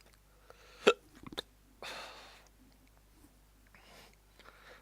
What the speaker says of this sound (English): I was not expecting a hiccup as much as this